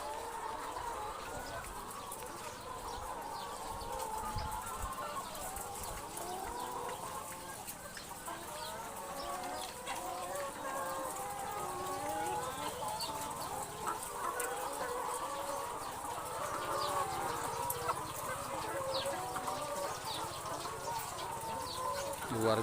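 Laying hens at an egg farm beside rice fields cluck and murmur continuously at moderate distance, with a rooster among them, and people talking softly over the flock.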